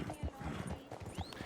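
Horse hooves clip-clop in Red Dead Redemption 2, a steady walking rhythm of soft thuds set against faint game ambience.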